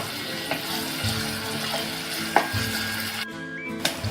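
Onions cook in a pan with a low, even sizzle and soft stirring sounds, heard close and steady with a few small clinks.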